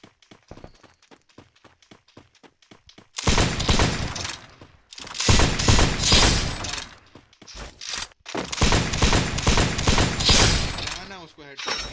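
Gunfire in a shooter video game: quiet ticking and footsteps at first, then three long, loud stretches of rapid automatic fire separated by brief pauses, with crashing impacts mixed in.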